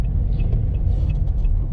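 A car drives along Komsomolskaya Street in Mirny in July, its cabin filled with a steady, loud low rumble of engine and road noise, with no one talking.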